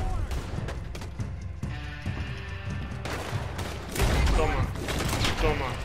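Gunfire in the Red Dead Redemption 2 video game: a dense, continuous fusillade of shots and bangs that grows louder toward the end, with someone talking over it.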